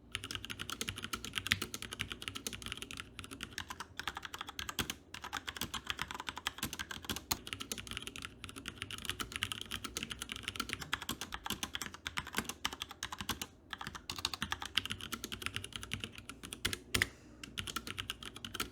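Mechanical keyboards from G.Skill and Corsair with Cherry switches being typed on steadily, a dense run of close, crisp key clacks with brief pauses, no voices.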